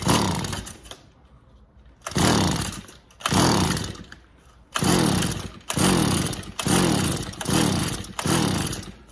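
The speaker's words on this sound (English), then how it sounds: "full choke, we're gonna set our throttle a little bit high, and then we're just gonna kind of pull it to see what happens" A Tanaka weedeater is pull-started repeatedly on full choke with the throttle set high, giving seven loud rasping bursts of the recoil starter and engine turning over, each about a second long, separated by short pauses, with no talking.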